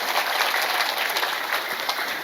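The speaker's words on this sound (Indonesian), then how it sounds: "Tepuk tangan disit kanggo panitia." An audience at an Islamic religious gathering breaks into dense, loud applause for the event organizers. Many hands clap at once, steady and sustained with no pauses.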